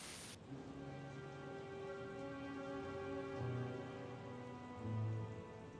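Steady rain sound effect playing during a tabletop roleplaying game session, a constant soft patter with faint low rumbles that swell twice, alone with no talk over it.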